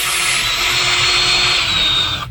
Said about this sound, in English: metal wire wheel on the drill.